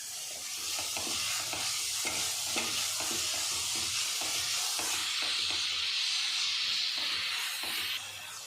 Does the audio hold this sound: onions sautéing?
yes